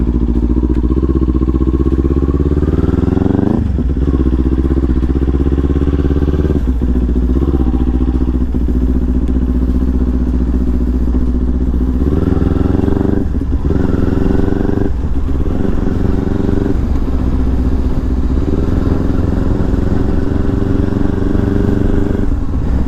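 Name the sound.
motorcycle riding, recorded from GoPro helmet mount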